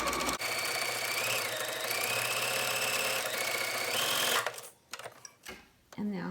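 Sewing machine stitching a cotton no-filter face mask, running in a fast continuous whir for about four seconds, then stopping, followed by quieter fabric handling.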